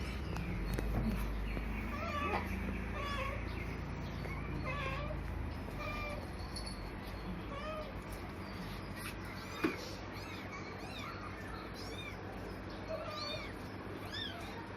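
Several small, high-pitched kitten meows repeat throughout over a low background rumble, close by and fairly clear.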